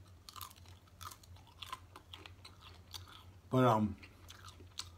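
Crunchy Black Label bacon being bitten and chewed close up, one loud crisp crunch burst standing out amid softer mouth sounds, with a brief spoken word nearby.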